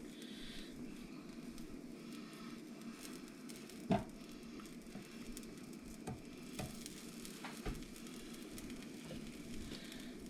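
An aloo paratha sizzles and crackles steadily on a hot pan over lowered heat, with a soft continuous frying hiss and a few sharper pops and taps near the start and middle.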